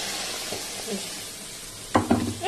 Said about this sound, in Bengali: মাছটা ভাজা ওই হয়ে গেছে এবার আমি এই যে সর্ষে আমি জলে গুলে রেখেছি এটা দিয়ে দেবো